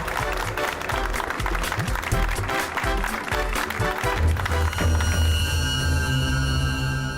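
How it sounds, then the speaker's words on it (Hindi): Loud applause from a studio audience welcoming guests onto a TV show stage, clapping dense at first, then giving way to a sustained musical tone and low rumble. "जोरदार तालियों से स्वागत किया जाए इनका"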